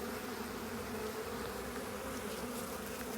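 Honeybees drone steadily at their hive on a warm winter day, a dense, constant buzz close by with no breaks or voices.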